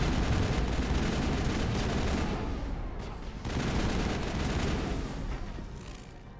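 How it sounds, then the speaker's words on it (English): Assault rifle fire in Mass Effect, a dense, loud stream of rapid shots and booms that runs nearly without a break, dips briefly near the middle, then keeps roaring before easing at the end. "She says this as she instantly gets mowed down by my assault rifle."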